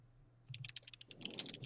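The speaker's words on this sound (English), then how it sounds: "I hear someone typing like crazy." Fast typing on a computer keyboard, a rapid patter of crisp key clicks starting after a brief quiet moment, fairly close and steady over a low background hum.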